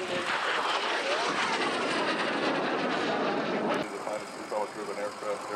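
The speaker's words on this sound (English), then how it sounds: "Lieutenant Russell Brown, piloting this shooting star with the 16th Fighter Squadron" A Shooting Star jet aircraft roars past at an airshow, a loud, broad rushing engine sound that drops away near the end, with an announcer's voice over it.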